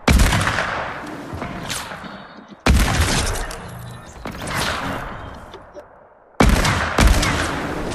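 Hunting rifle shots in Fortnite, three or four loud, sharp cracks, each ringing out and fading over a couple of seconds before the next.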